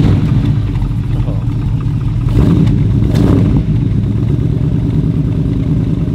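Ferrari 250 GT California engine with only 1,600 miles, idling and running with a steady low rumble and throaty mechanical clatter, close and loud, with a couple of brief revs.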